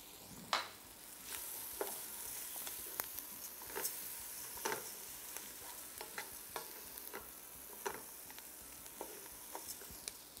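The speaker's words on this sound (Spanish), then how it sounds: "Voy a poner el arroz, voy a tostarlo." Precooked rice toasting in a pan, a steady soft sizzle broken by repeated light scraping and stirring clicks, fairly quiet and close, with no talking.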